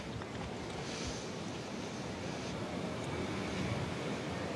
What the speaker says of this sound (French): Le vent qui se lève sur l'hippodrome